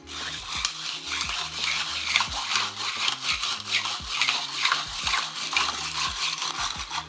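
Ice rattling and clinking in a glass as a tiki cocktail made with a high-proof rum is swizzled, a busy continuous scraping and jingling with quick rhythmic strokes, close and alone.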